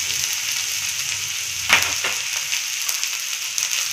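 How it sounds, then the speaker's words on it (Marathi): Crushed garlic fries in a pan with a steady, close hiss, and one sharper crackle and scrape partway through. "लसूण 5 ते 6 पाकळ्या सोलून बारीक ठेचून घ्यायच्या। चांगलं आपलं भाजून द्यायचं जरा।"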